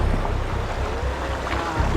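Fast, strong river current rushes around a bamboo raft in rural Cianjur, a steady, dense wash of water with wind noise on the microphone and no pauses.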